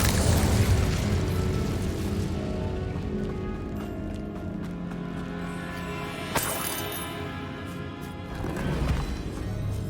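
In Hogwarts Legacy, an Incendio fire spell is cast, a loud whooshing burst with booming low rumble and crackle, layered over game music and ambient effects, with a sharp impact midway.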